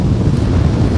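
Strong wind blows over a hill during a flight in a wooden BRO 9 Ziogas glider, a constant loud roar and buffeting across the whole second.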